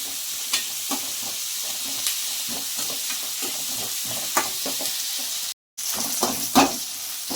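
Onions fry in a pan until brown, with a steady hissing sizzle broken by occasional spatula scrapes and a brief dropout near the end.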